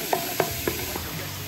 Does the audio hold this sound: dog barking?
no